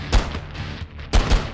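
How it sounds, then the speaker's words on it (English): A shotgun fires twice in the indie video game Dungen Shooters, each shot a sharp, punchy blast with a short tail, about a second apart and close up. "Next, I have a shotgun. It shoots out a few bullets evenly spaced apart."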